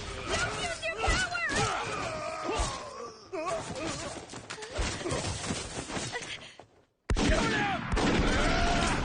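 A volley of gunfire in the Hakuoki video game crackles in repeated bursts, mixed with shouting, groaning voices and dramatic game audio, briefly dropping out before resuming loudly.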